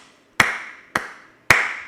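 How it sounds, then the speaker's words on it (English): Three sharp hand claps close to a microphone, spaced about half a second apart, each hitting hard enough to distort before ringing briefly away. "When I clap, it goes into the red."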